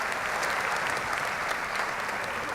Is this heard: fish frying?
no